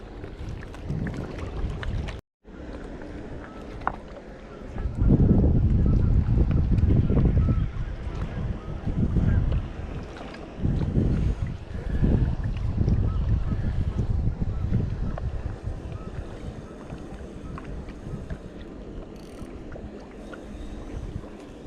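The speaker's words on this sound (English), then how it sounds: "Other than the wind kicking, it's a beautiful day." Wind gusts buffet the microphone while fishing from a boat on a lake, loud low rumbling surges rising and falling through the clip after a brief dropout near the start.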